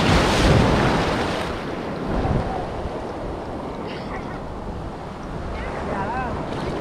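Ocean waves at Colva Beach in Goa roll and wash steadily, a broad continuous surf roar with wind buffeting the microphone and no clear talk.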